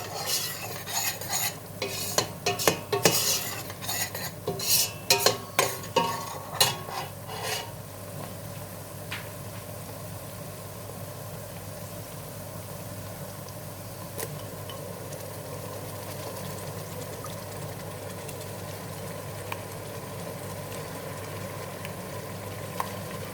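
Chicken pieces sizzle steadily in butter and oil in a hot pan, with a burst of scraping and stirring at the start before settling into a constant frying hiss.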